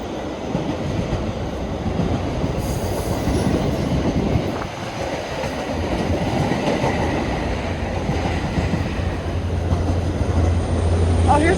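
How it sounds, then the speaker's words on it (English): A train led by a white locomotive passes close on the rails, making a loud, continuous rumble and rattle of wagons. Wheel clatter and some squeal run throughout, with no talk over it. "Oh, here's a locomotive."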